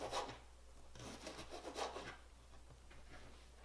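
Knife cutting a bell pepper into strips on a board, a few close, quiet rasping slices in quick succession, the strokes fading out toward the end.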